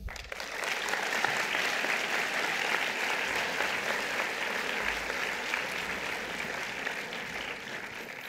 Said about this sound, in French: à vous de l'applaudir